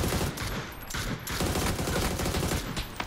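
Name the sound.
gunfire in the video game PUBG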